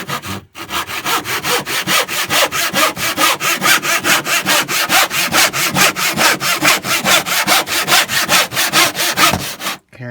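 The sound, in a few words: sawing off a wooden part for a phone holder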